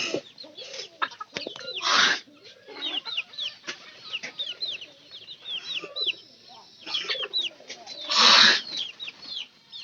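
Chickens cluck repeatedly in short, rhythmic bursts, with a couple of louder squawks standing out, close by and fairly clear.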